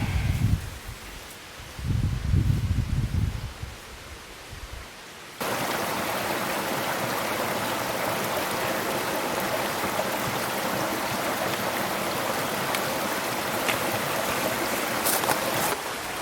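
Steady rushing water of a creek in the Ventana Wilderness, California, flows continuously and close by, after a few seconds of low muffled rumbling.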